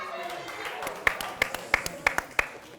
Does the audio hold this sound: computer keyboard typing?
no